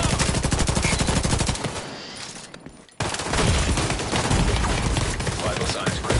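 Rapid automatic turret gunfire in the video game The Division 2, a dense, loud stream of shots that briefly drops away near the midpoint, then resumes at full intensity.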